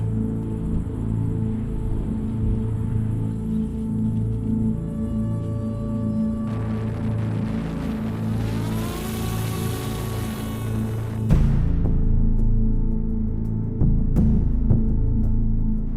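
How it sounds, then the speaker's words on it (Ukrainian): A reconnaissance drone's engine is test-run on the ground, a loud steady mechanical drone with strong harmonic hum that rises in pitch midway, then drops and roughens toward the end, alone without talk. "Перевірка роботи двигуна."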